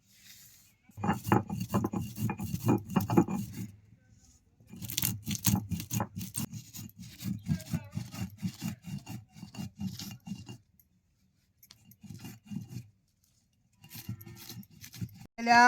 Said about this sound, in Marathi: आधी वाळा सौदा ही पाट्यावर वाटून घ्यायचा सगळं एकत्र करून